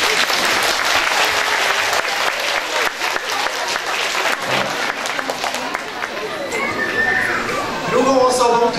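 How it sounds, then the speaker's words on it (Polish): Audience clapping steadily throughout at a children's Chinese-language competition in Poland, a dense, close wash of applause with children's voices mixed in. "Wielkie brawa."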